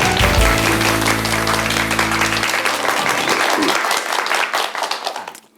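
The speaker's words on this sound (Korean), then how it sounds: "박수 부탁드릴게요." An audience at a televised Korean lecture on character education applauds loudly. A low sustained musical tone sits under the clapping for the first couple of seconds, then the crowd claps alone and fades toward the end.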